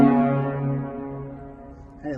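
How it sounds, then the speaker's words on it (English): The St. Louis Blues hockey goal horn blasts a deep, loud sustained tone that slowly fades, then a brief second burst begins at the end. "Oh, horn test."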